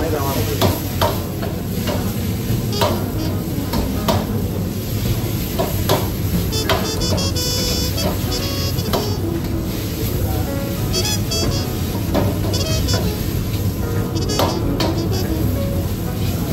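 Pad thai mixture is stirred and fried in a hot pan, with a steady loud sizzle under repeated scraping and clattering strokes of a utensil, continuing throughout at close range.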